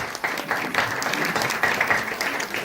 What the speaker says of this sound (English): A big round of applause for everyone present here, including our teachers.